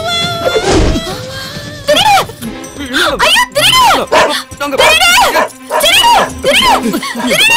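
A dog in a Tamil comedy film scene barks loudly several times, with rising and falling yelps and growls over a busy mix that includes voices.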